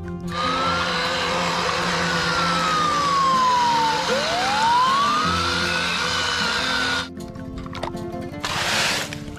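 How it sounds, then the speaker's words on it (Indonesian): A toy fire truck's electronic wailing siren rises and falls over a buzzing motor hum, then cuts off abruptly into short rattling bursts and a brief hiss. "Mobil pemadam kebakaran."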